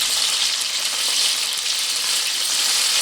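Flat beans seasoned with salt and turmeric are stirred in a hot pan, giving a continuous bright sizzle with soft scraping, close and steady, with no voices.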